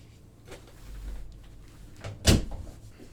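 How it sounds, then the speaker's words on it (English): A room door swings shut indoors with a single close, solid thud, preceded by a softer shuffle or handle sound; there is no talking. "I'm gonna close my door real quick."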